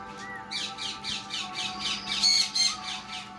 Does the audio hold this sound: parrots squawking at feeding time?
yes